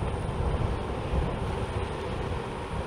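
A Rad Power RadMini electric fat folding bike motor runs under throttle, a steady whining drone inside heavy rushing wind noise, continuous throughout.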